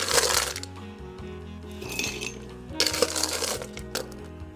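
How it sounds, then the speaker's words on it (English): Ice cubes clinking and tumbling into a cocktail glass while a margarita is being made, with two or three bursts of rattling clatter close by and a low hum in the background. "So we're gonna grab our prepared glass, add some ice to it"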